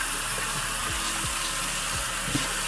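Running tap water at a bathroom sink while a face mask is rinsed off, a steady broadband rush with a few soft splashes and gurgles, close and continuous with no talking.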